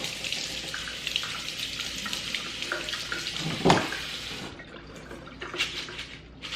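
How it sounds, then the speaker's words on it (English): Cool running tap water splashes over hibiscus flowers in a strainer, a steady close rush with uneven spatters and a brief louder splash midway. "Put those into a strainer and rinse with some cool water."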